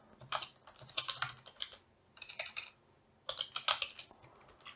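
Bursts of rapid key clicks from a computer keyboard while code is typed for a debounced rotary encoder project, coming in three quick clusters separated by short pauses, close and fairly quiet.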